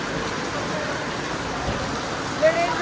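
Heavy rain pours down at night during a road journey, a steady broadband hiss with a brief louder splash near the end and faint voices underneath.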